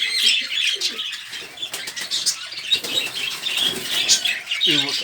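Pigeons, including an albino bird, rustle and flap their wings close by in a loft with four young chicks, while soft coos and chirps come and go throughout.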